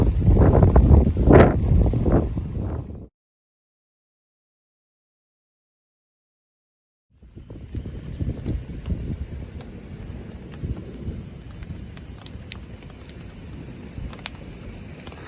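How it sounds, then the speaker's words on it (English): Wind gusts across a flooded island hammock camp in wet weather, a loud buffeting rumble at first, then silence, then a steadier, lower rush of wind and rain noise. "Fairly windy."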